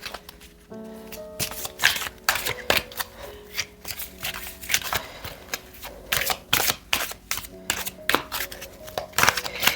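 Oracle cards are shuffled and drawn by hand, giving a run of crisp riffling flicks and slaps in uneven bursts, close and fairly loud, with a brief tone near the start.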